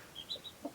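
A mother hen with newly hatched baby chicks on a farmhouse gives soft, faint clucks mixed with a few high peeping chirps, brief and quiet over a low background hiss.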